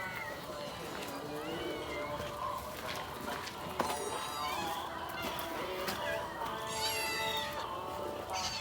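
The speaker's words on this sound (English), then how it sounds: "I know they'll be noisy because they all want fed." Several hungry house cats meow for food at feeding time, their cries overlapping in a busy, continuous chorus under a person's voice, with small bumps and movement close by.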